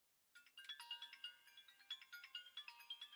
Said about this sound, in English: And then ring the phone.